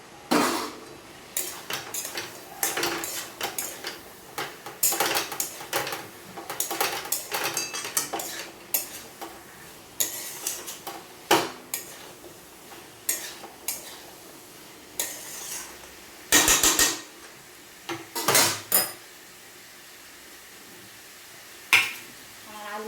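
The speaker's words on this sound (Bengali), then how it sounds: "এবার আমি ডাঁটাগুলো দিয়ে দেবো" Drumstick stalks being tipped into and stirred through a spiced masala in a pan, with repeated close metallic clatters and scrapes of a spoon against the pan in bursts, separated by quiet gaps, under a faint sizzle.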